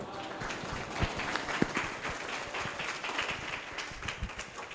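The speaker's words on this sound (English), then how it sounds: "let's give them one applause again" Audience applause after a student presentation at an international school conference session: dense, sustained clapping from a hall full of people at moderate loudness, with faint voices mixed in.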